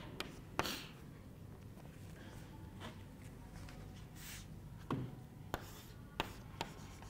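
Chalk or marker writing an equation on a board in a physics lecture on magnetic substances, with soft scratchy strokes and several sharp taps as letters are formed, fairly quiet and close.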